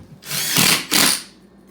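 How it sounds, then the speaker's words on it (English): A power drill drives a screw into drywall to mark a joist, two close whirring bursts about a second long each with a short pause between, loud and alone. "so I'll put a screw right there to make my mark"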